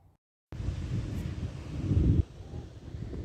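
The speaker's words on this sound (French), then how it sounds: "J'espère que vous m'entendez parce qu'il y a un peu de vent." Wind buffets a microphone on a beach between Port-Camargue and Le Grau-du-Roi, starting abruptly after near silence as a loud, low, gusty rumble that swells then eases, no talk.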